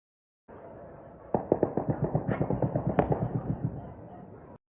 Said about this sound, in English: celebratory gunfire and fireworks lit up the Kabul night sky